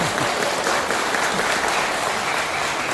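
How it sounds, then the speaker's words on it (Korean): Attendees at a Korean political party's press conference give a steady, even round of applause, a dense crowd clapping that fills the whole stretch without pause. "박수 한번 치실래요?"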